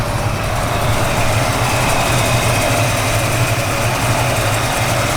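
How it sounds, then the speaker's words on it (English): A 1972 Chevrolet Nova's engine idles loudly and steadily, its low rumble pulsing with a rhythmic camshaft lope that repeats throughout. "You hear that little cam working."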